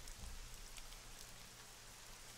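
Steady rain in the video game TMNT Legends, a soft, even hiss of falling drops that stays faint and continuous throughout.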